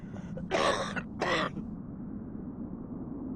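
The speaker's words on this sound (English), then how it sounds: "I've never heard you cough like that before." Two harsh, raspy coughs burst out close by in quick succession, followed by quiet background hum.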